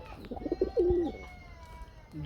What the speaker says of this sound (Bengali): ডাক দেখতে পাচ্ছেন বন্ধুরা, কত সুন্দর এক জোড়া গোল্লা।